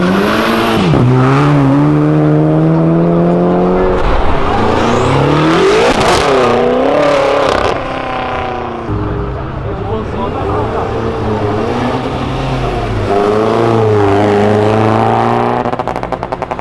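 A Ford Mustang accelerating hard at full throttle, its engine climbing and revving repeatedly in loud, close sweeps with a harsh roar that barely lets up; people shout over it.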